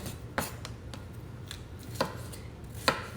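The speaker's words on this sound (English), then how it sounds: "we're just slicing them up" Green peppers sliced on a cutting board with a knife, a few distinct chops at uneven intervals, close and clear, with no talking.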